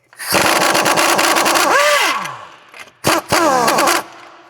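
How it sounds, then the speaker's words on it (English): Impact gun on the front sway bar link nut of a Dodge Grand Caravan, two loud close bursts of rapid hammering whir, the second in short stuttering pulses, with no talk. "we're basically just gonna go impact gun this thing and see if it spins off"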